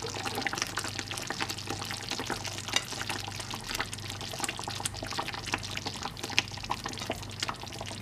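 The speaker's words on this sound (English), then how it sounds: "So I'm just going to stir everything." Meatball sauce being stirred in a pot, with a steady wet bubbling simmer and soft irregular scraping and sloshing of the spoon running evenly throughout, close and moderately quiet, with no talking.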